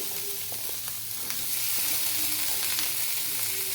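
Tamarind with fresh coconut pieces and other chutney ingredients fry in a pan, giving a steady close sizzle with occasional stirring scrapes and no voices.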